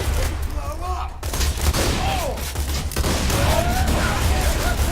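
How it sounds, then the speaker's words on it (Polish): Dense, continuous Borderlands 2 grenade explosions and crackling gunfire rumble without pause, with faint voices underneath. "Wszystko wybuchło i podpaliło."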